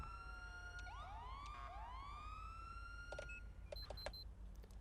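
A police car siren in a video game with an ELS lighting mod sweeps up in several rising wails, followed by short electronic yelps and beeps, clear over a low steady engine hum.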